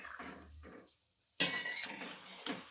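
Besan onion tikdi frying in a pan, stirred and flipped with a metal spatula, gives a sharp clatter and a scrape followed by a bright sizzle and a few softer utensil clinks, heard up close.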